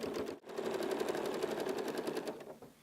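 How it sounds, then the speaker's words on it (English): A sewing machine stitching fabric for a placemat runs in a rapid, even mechanical chatter, close and loud, after a brief pause near the start, then slows and stops near the end. "do the first stitch with the hand winder again so you're on the next piece of fabric"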